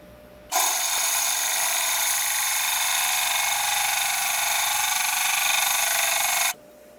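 A drill bit grinds through aquarium glass in one steady, loud, high-pitched whine that holds for about six seconds, then stops abruptly.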